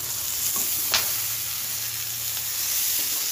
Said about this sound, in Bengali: একটু নাড়াবো